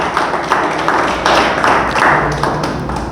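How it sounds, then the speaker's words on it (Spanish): A church congregation claps together during a service, producing uneven bursts of hand claps and thumps that swell and fade in waves, fairly close and loud. "Oigan, denle fuerte el aplauso, por favor"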